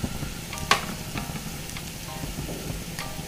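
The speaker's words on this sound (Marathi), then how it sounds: "जे आपण डेसिकेटेड खोबरं घेतलं होतं ते आपण थोडंसं परतून घेणार आहोत।" Desiccated coconut sautéing in a pan with turmeric, red chilli powder and coriander powder, a soft steady sizzle and gentle stirring throughout, with one sharp scrape of a utensil near the start.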